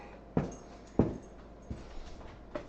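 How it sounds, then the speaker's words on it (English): A dog makes a few short, soft whimpering cries with pauses between them, close by in a room. "you jealous dog, you"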